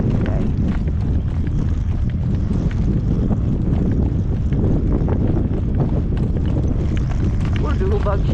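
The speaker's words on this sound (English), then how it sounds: "it's too windy" Strong gale-force wind roars steadily and loudly against the microphone throughout, a dense unbroken rumble with gusty buffeting and no pauses.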